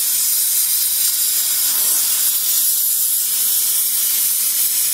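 An HHO torch brazing and melting metal produces a constant, loud, close gas hiss that holds steady throughout with no speech.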